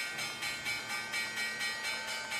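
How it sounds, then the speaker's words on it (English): The stock market opening bell at the NYSE rings in fast, steady repeated strokes, a continuous metallic clanging heard at a moderate distance with no talk over it. "Here comes the bell."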